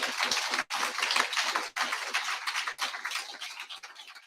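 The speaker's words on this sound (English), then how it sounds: "So, big round of applause for all our candidates tonight." Audience at a District 14 and Ada County Sheriff candidate forum applauds the candidates, a dense, steady wash of many hands clapping with a few brief dips, close and loud with no talk over it.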